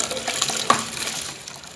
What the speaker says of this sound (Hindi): अब हम इसमें चावल ऐड करेंगे।